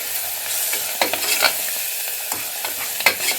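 Ginger paste fries in a pan with a steady hiss, broken by a few sharp clicks and scrapes as it is stirred. No one speaks.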